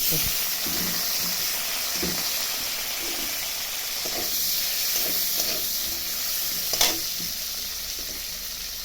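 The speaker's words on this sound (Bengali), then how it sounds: "পনিরগুলোও ভেজে নিব।" Paneer pieces frying in oil in a home kitchen pan, a steady close sizzling hiss with scattered soft pops and a few clinks from stirring, without any talking.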